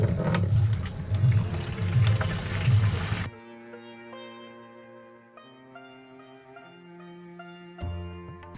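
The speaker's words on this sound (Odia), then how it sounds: "ମିଶିଗଲା ପରେ ଢାଳି ଦିଅନ୍ତୁ ସ୍ପ୍ରେ ମେସିନ ଭିତରେ" A mixed liquid is poured into a farm spray machine, giving about three seconds of splashing, gurgling flow before it gives way to music.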